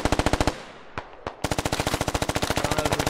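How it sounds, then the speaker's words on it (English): Rapid shotgun fire in a SquadOps tactical shooter game, a fast string of sharp shots, a short gap with two isolated blasts, then another long steady volley, moderately loud with no talk. "That sound you hear is a shotgun. There, we got a shotgun going."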